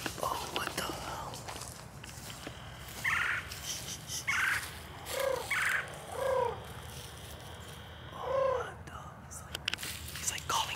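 Someone whispers nearby while a man makes a string of distant turkey-like gobbling calls, imitating the bird, rising and falling in short bursts.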